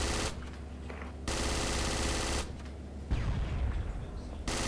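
Project Reality gunfire from the player's own weapon on Kashan with tanks around: sustained loud automatic bursts in long blocks separated by brief pauses, close and dominant.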